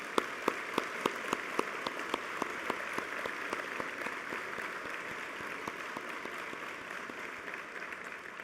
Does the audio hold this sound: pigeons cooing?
no